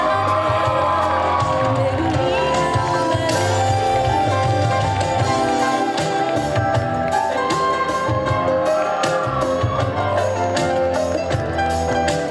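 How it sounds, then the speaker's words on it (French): Crowd at a cosplay parade at the Mulhouse Japan Manga Wave event, loud sustained cheering and whoops over applause, with music and chatter mixed in throughout. "Un tonnerre d'applaudissements s'il vous plaît pour son courage également."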